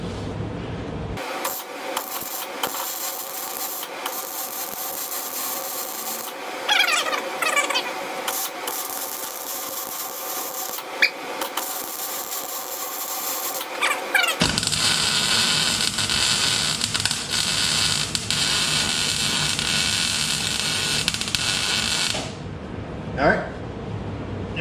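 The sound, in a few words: welding an axle stop on horse-drawn hearse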